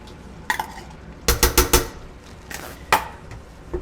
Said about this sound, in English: Stir in the nutmeg, and then add the tomato paste.